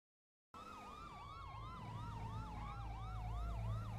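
A police siren that resembles the Grand Theft Auto siren wails in a steady rising-and-falling cycle over low traffic rumble, starting abruptly after a half-second of silence and growing slightly louder.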